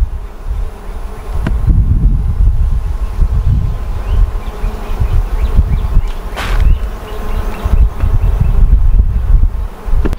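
Honeybees swarm around an opened beehive during an inspection, a dense, loud, close buzzing drone that persists throughout with gusts of wind noise against the microphone.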